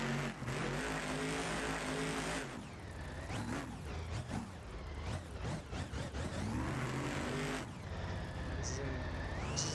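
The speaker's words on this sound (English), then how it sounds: "as we get ready for Charlie Pauken, a gravedigger, coming out next here for the two-wheel skills challenge" The Grave Digger monster truck revs inside Principality Stadium in Cardiff for a two-wheel skills challenge, its loud engine rising and falling in surges, with an announcer talking over it.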